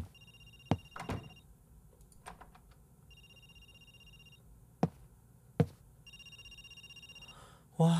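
A telephone rings in the horror video game Linger, sounding as repeated electronic trilling bursts with pauses between them. Sharp knocks and thumps fall in between the rings, over a quiet room background.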